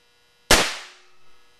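A duck foot pistol with three barrels fires once after a silent pause, a single sharp loud crack that decays into a brief rumbling tail.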